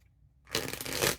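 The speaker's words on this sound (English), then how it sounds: "So I'm going to do this 2 more times. 2 more shuffles." A deck of cards is riffle-shuffled once, a quick fluttering burst of snapping card edges lasting under a second, close and fairly soft.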